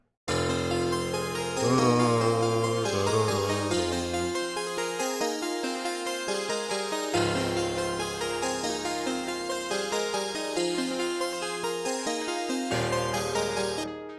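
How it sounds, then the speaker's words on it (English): A plucked guitar line weaves a melody over a sustained musical backing, with steady rhythmic notes throughout. "So then I went and got this guitar"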